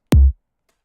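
A kick drum warped and stretched in transient warp mode gives one booming, pitch-dropping thump that decays within a quarter second, followed by near silence.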